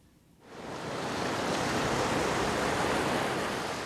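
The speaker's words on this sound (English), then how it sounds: "The river is raging through Nysa, close to bursting its banks and putting everything in its path under huge pressure." A flooded river surges through the town of Nysa in southwest Poland, a dense, loud, continuous roar of rushing water that swells up after a brief quieter moment.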